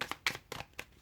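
Tarot cards are shuffled by hand, giving four quick, soft riffling bursts that sound close and quiet within about a second.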